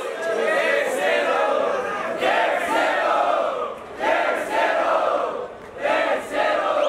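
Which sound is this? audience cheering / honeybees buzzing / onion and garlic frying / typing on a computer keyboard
audience cheering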